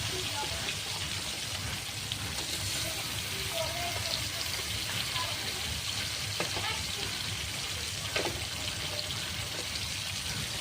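Tilapia fish pieces frying in hot oil, a steady dense crackle and sizzle held close throughout, with occasional louder pops.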